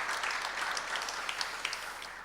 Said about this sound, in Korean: 우리 감사의 박수 좀 드립시다